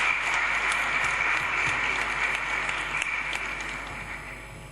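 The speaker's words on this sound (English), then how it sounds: "Ladies and gentlemen, give a huge round of applause to Ms. Huma Pasha." A steady, moderately quiet wash of audience clapping at a Women's Day event in Lahore fills the space as a woman is called to the stage, tapering slightly toward the end.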